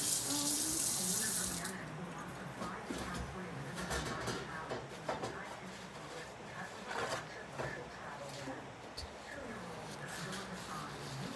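A kitchen tap runs steadily into a sink while lunch items are rinsed underneath, the splashing stream close and continuous with faint handling clatter; a person talks softly over it.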